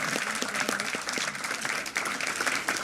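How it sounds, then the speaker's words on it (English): A conference audience at a livestreamed final event breaks into applause, dense steady clapping from many hands filling the room for the whole stretch. "I think that deserves a round of applause"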